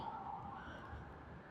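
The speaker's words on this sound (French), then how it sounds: "tu entends sûrement la sirène" A siren wails on a busy Toronto city street, holding a steady, faintly wavering tone that stays distant and quiet over the constant hum of urban traffic.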